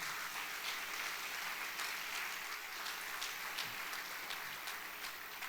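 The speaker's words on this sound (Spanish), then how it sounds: "Dale fuerte el aplauso a Cristo." Steady applause from a crowd, continuous clapping throughout with no talking.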